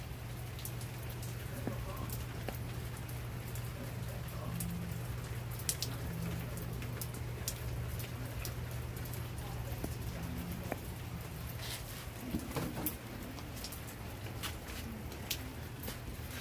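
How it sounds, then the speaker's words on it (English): Steady light rain patters across surfaces at the beach with a constant low hum underneath, occasional drips and taps standing out. "It's very light rain."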